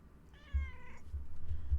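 A pet cat gives one clear, drawn-out meow close by, heard alone over low room rumble and a few soft bumps.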